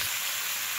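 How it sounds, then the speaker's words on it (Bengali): Turmeric, salt, sugar and spices sizzle in hot mustard oil for a potato, cauliflower and soybean curry, a steady close frying hiss that runs unbroken through the short moment with no talking. "সরিষার তেলে রান্না করতেছি"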